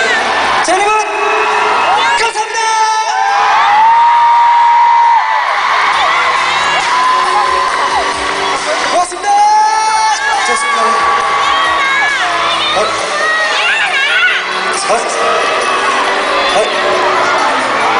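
A large crowd cheers loudly and without pause, full of high-pitched screams and whoops, with voices calling out over the din.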